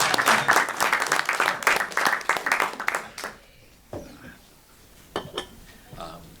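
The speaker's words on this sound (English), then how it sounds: "Well, let's give him some applause." Audience at a university book talk on populism gives a speaker a burst of clapping for about three seconds, then it thins to a few scattered claps, with a voice speaking briefly as it dies down.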